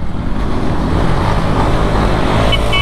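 Racing motorcycle engine, a KTM RC200, FZ250 or R15 V3, accelerating hard in second gear on a top-end run: a loud, dense, steady roar with wind rush, close and continuous, with no talking.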